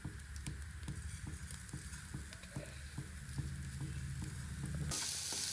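Grated coconut and sugar cooking in a pan for a banana roll filling, a steady close sizzle with soft periodic stirring scrapes and no talking.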